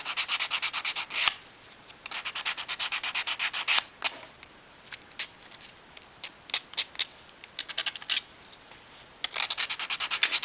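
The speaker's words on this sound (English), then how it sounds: "Sanding a taper to make the sides easy to press on." Quick rhythmic strokes of sandpaper sanding a taper onto a small cam follower part, coming in bursts separated by short pauses, close and crisp.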